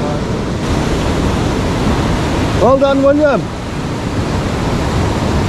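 Steady broadband wash of sea waves and white-water surf on a calm, flat sea during shore fishing, continuous throughout; someone speaks briefly over the noise partway through.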